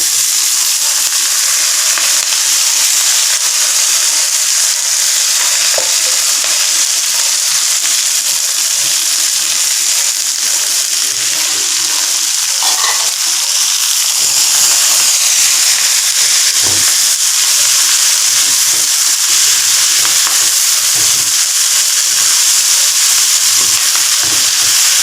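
Moringa leaves stir-fry in a hot pan, giving a loud, steady, close sizzle and hiss with a few soft stirring scrapes, continuous throughout and with no voices.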